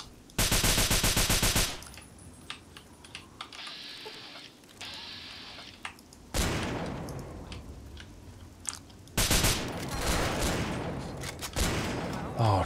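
Machine gun fire in modded Fallout 3 comes in loud rapid bursts, with a long burst at the start and more bursts later, separated by quieter stretches of game noise.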